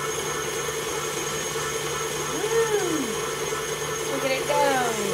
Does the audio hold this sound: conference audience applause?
no